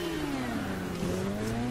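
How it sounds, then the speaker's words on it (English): A car engine is held against its rev limiter, a steady, loud, buzzing drone with a slight wavering pitch. It sounds close and continuous, with no pauses or gear changes. "Listen to me bounce off the fucking red limiter."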